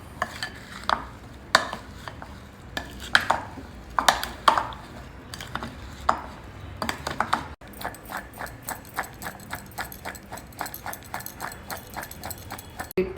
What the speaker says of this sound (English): Mix all this well together so that all the vegetables get coated evenly with the salt and other spices too.